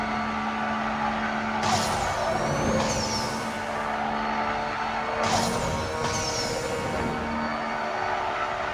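Cadillac CT5-V Blackwing racing in the NFS No Limits mobile game, a steady high engine drone with two bursts of tire squeal and whooshing passes around two and five seconds, continuous and loud without talk.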